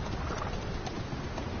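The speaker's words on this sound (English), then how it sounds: "We were riding on horses." Horse hooves clop steadily while riding in the video game Metal Gear Solid V, a continuous muffled trotting rhythm heard alone with no talk.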